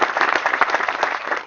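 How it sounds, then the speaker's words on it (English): A crowd applauds steadily for Mrs. McCullough, the First Lady of Virginia, with dense, even clapping sustained throughout at moderate loudness. "Please give her a round of applause."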